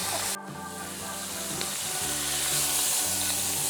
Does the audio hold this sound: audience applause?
no